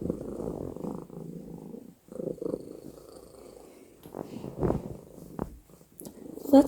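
A house cat purrs up close, a steady low rumble with short pauses between breaths, followed by a few soft rustles and small bumps near the end.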